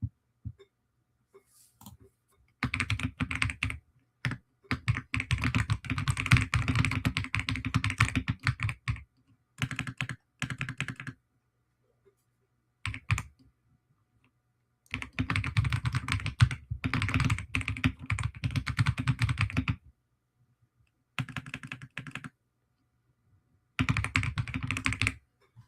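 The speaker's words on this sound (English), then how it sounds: "Yes, it's me typing away." Typing on a computer keyboard, with quick dense clatters of key presses in several bursts of a few seconds each separated by silent pauses, close and clear with no voices.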